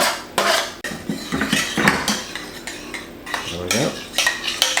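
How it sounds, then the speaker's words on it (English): Vegetables squeezed and pressed through a metal sieve into gravy for a traditional British Sunday roast beef dinner, with close, loud clinks and scrapes of utensil against sieve and pan in uneven bursts. "Just squeeze those veggies and sieve them into the gravy"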